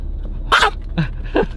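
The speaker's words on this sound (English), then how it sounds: "It's a demon dog." A dog barks three times in short, loud, close yaps spaced about half a second apart, with faint background hum and no talking.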